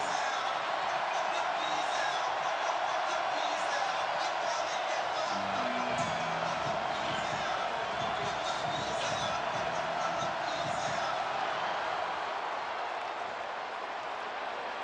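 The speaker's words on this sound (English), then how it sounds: "Settle back, folks, and listen to one of the great crowds in college football" Roaring stadium crowd at an LSU college football game against Ole Miss, a steady loud wash of cheering and noise filling the whole stretch, with a few lower thumps mid-way.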